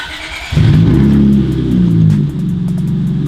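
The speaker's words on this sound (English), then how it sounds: "I gotta hear that new exhaust sound." An Acura TL with a new straight-piped exhaust cranks and fires up after a quiet moment, bursting into a loud, rough idle with a brief rev that then settles, close by and without speech.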